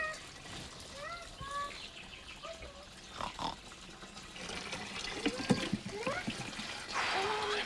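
Water runs from a tap on a farm with pigs, a hissing flow under grunting, squealing sows and some talk, getting louder toward the end.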